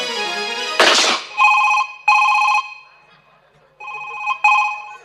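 A telephone rings during a stage comedy play, giving four loud, close electronic ring bursts separated by short gaps, after a brief noisy thump near the start.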